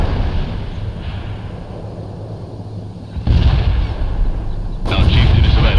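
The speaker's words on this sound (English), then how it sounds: "Firing for effect. The barrage is on the way." Artillery barrage in the World in Conflict war game, a steady rumbling roar of distant fire with two sudden loud bursts of impact partway through, no talking.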